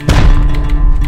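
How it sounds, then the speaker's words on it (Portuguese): A heavy explosion in the survival video game Rust, a single deep, loud thud that hits hard and then rumbles and fades over about a second, with no voices. "Vocês estão ouvindo explodindo? Explodiu alguma coisa."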